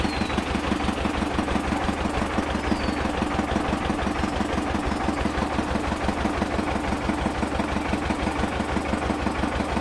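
A motor boat engine chugs through wetland waters in Sunamganj, Bangladesh, with a loud, steady, rapidly pulsing throb close by that runs unbroken throughout and drowns out everything else.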